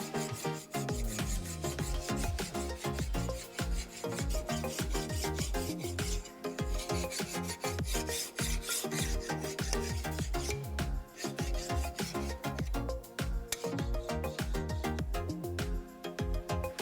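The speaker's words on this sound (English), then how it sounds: "I found that the file actually cut really good compared to how much struggle I was having with the belt sander" A metal file rasps back and forth across a super alloy knife blade in steady, continuous strokes, close and moderately loud, with no talking.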